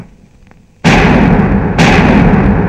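A bomb blast in a Telugu comedy film scene: a loud, sudden booming explosion followed about a second later by a second heavy blast, both filling the track with roaring noise.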